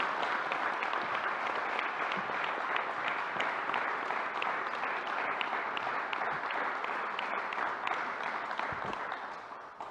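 An audience at a New York governor's news conference applauds steadily for about ten seconds, a dense, even wash of clapping at moderate distance that tapers slightly at the end.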